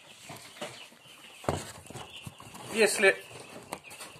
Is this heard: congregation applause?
no